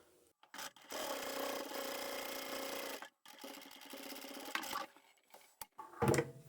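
A sewing machine stitching the fabric pocket of a zippered phone pouch: two long continuous whirring runs separated by a pause, then several short stop-start bursts, close and clear.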